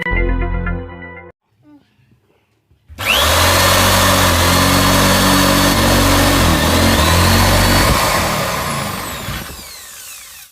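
A loud Buildskill electric drill whirs up and runs steadily for several seconds with a strong motor drone, after a brief quiet pause.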